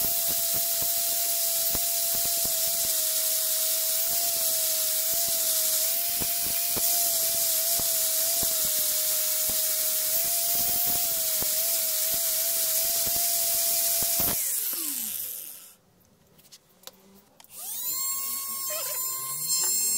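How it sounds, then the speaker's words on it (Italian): An angle grinder grinds teeth off a front axle part of a Toyota Land Cruiser BJ73, a loud steady high-pitched whine with a constant hiss that cuts off, followed by a shorter, higher Dremel buzz starting up. "Vediamo adesso di farlo con il flex un attimino"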